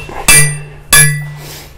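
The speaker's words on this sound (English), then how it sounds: "I have to finish this off with a hammer" Two loud, sharp hammer blows about half a second apart, each ringing briefly with a metallic tone, struck during a DIY electrical service upgrade.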